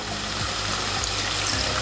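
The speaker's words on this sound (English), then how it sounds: "I'm going to add a little bit of water." Water pours steadily into a cooking pan of potatoes and peas on a stovetop, a continuous close splashing and trickling with no talk over it.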